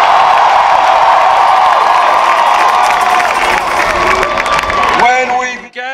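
A huge outdoor rally crowd in Washington Square Park, New York, roars and cheers continuously, loud and dense with shouts and whoops, before the noise cuts off abruptly near the end.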